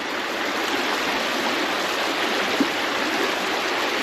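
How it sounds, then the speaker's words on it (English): The heavier-flowing stretch of a Pennsylvania trout creek rushes steadily and loudly at close range, an unbroken wash of water with no voices. "this is the heavier portion of the creek flow"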